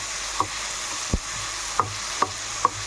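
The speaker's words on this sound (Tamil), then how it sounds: "நல்லா கிண்டி விட்டுக்கலாம்." Food sautéing in a pan for a late-night home dinner, with a steady soft sizzle broken by a few sharp spatula scrapes and taps against the pan, close and fairly quiet.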